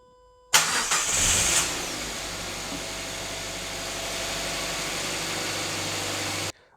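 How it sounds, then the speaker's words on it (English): A Mazda 2 engine cranks and catches with a loud burst, then settles into a steady, even idle that runs close by until it cuts off abruptly, with no talking. "I'm going to start the car and watch the values."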